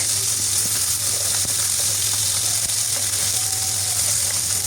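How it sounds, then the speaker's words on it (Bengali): Small river chapila fish fry in a pan of oil, with a steady, close crackling sizzle that holds level throughout and carries a faint low hum underneath. "এক পিঠ ভালোভাবে ভাজা হলে উল্টে আরেক পিঠ ভেজে নিচ্ছি"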